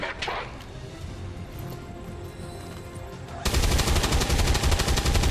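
Gunfire in the turn-based video game XCOM 2, a short burst of sharp shots followed by a sudden loud, dense blast of rapid fire that fills the last two seconds.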